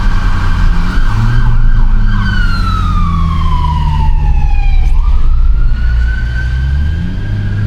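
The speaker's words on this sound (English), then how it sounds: "Ooh, the siren's getting closer." A loud wailing emergency vehicle siren sweeps down and up in pitch over steady traffic rumble on a rainy night in downtown Buffalo, sounding close and drawing nearer.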